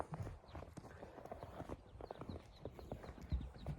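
Horse hooves clip-clop at a steady walking pace, fairly close, with soft background noise and no talking.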